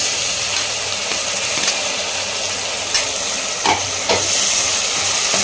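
Onions and tomatoes fry in a pan for a tomato kurma gravy, giving a loud, steady, close sizzle and hiss throughout, with a few faint stirring scrapes and no talk.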